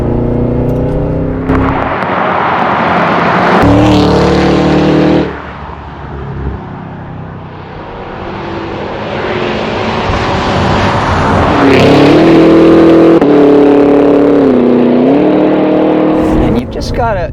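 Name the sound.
2022 Cadillac Escalade V engine revving, 682 horsepower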